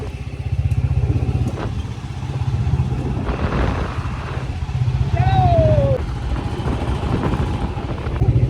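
A Bullet motorcycle being ridden on a road trip near Nainital, its engine thumping steadily and loudly throughout with a brief whine over the top, while a voice speaks.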